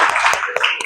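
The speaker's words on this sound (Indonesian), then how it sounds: "boleh tepuk tangan dong" A short burst of hand clapping: several quick, sharp claps in a steady rhythm over light room noise.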